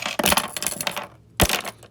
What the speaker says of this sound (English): Coins.